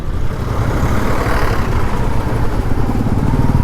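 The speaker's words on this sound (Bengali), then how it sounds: "আর এই বাইকগুলো পাশ থেকে চলে যাচ্ছে" Motorcycles ride past a queue of stopped cars on a mountain road near Siliguri, a loud continuous engine roar and rumble with traffic noise, close and steady throughout.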